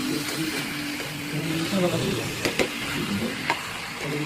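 Chicken keema is stirred quickly in a hot pan over a high gas flame, giving a continuous sizzle with scraping spoon strokes and a few sharper clicks against the pan.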